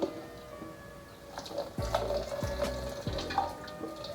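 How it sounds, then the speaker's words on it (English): Old fuel mixed with rust chunks pours out of an old rusty fuel tank, a liquid splashing and dripping with a few heavier sloshing gushes, fairly close and moderately quiet. "get this old fuel out of here and get some of this old rust out"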